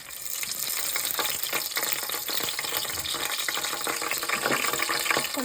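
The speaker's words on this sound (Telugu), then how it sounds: "ఒక బాండీ తీసుకొని దాంట్లో ఆయిల్, ఒక 4 స్పూన్స్ ఆయిల్ తీసుకొని కొంచెం హీట్ చేయాలి" Oil and butter heating in a kadai, about four spoons of oil, give a steady, fairly faint crackling sizzle that runs continuously without speech.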